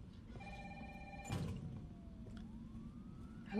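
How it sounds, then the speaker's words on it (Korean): Telephone ringing in a video game, a steady electronic ring lasting just over a second, followed by a low sliding tone under a constant rumble of game ambience. "전화를 받으러 갈 수 있어요."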